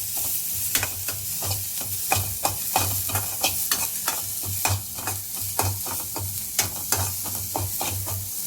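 Green chillies frying in a pan for curd curry, a continuous close sizzle broken by frequent sharp scraping stirs at an irregular rhythm, with a low hum beneath and no talking.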